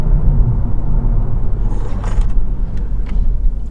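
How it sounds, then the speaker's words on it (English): A Vauxhall Astra family car accelerates hard in a lower gear, its engine giving a loud, close, steady rumbling drone from inside the cabin, with no voices heard. "let's put it down a couple of gears and have a look what the acceleration is like"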